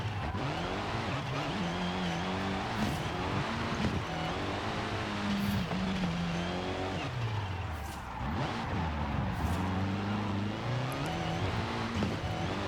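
Car engine revving and shifting through gears on a mountain hill climb track in Forza Horizon 5, loud and continuous with rising and falling pitch sweeps, no talk.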